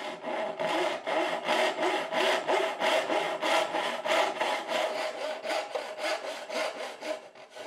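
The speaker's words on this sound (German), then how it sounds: "Ich säge meine Zinken grundsätzlich mit der Schreinersäge." A joiner's saw works by hand through wood, cutting dovetail pins for a chest in a steady, fast rhythm of about twenty back-and-forth strokes, close and clear with no voices.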